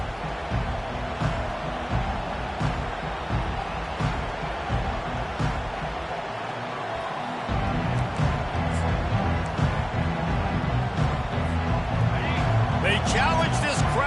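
Stadium crowd at a Nebraska football game, a broad steady roar of cheering that swells louder in the second half, with a play-by-play announcer talking over it.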